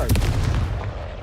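A Confringo spell blast in Hogwarts Legacy gameplay: one loud, heavy booming burst with a sharp onset, then a rumbling tail that slowly fades.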